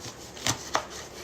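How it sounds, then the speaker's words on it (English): Garlic cloves being peeled by hand for homemade fire cider: two sharp, close crackling snaps about a quarter second apart over a quiet background. "now I'm peeling this garlic"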